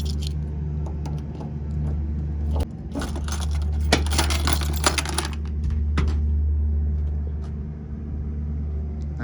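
Keys jangle and clink in bursts while the trunk of a 1967 Chevrolet Caprice with a numbers-matching 396 V8 is opened, close and crisp over a low, steady rumble.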